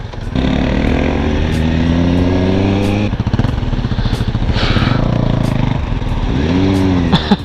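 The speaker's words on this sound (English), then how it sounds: "He's riding a KTM 390 Duke, naughty, which is an awesome, cool, fun little bike." A KTM 390 Duke motorcycle engine running loud and close while riding, droning steadily with shifts in pitch as it revs, then easing off and picking back up.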